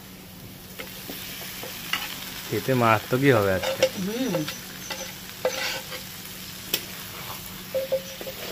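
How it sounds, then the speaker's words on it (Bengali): Fried chicken pieces are stirred into a sizzling spice masala for a chicken curry, with continuous frying hiss broken by scraping stir strokes and clatter; a person speaks briefly over the cooking partway through. "এইবার ভাজা চিকেনটা আমি দিয়ে দেবো।"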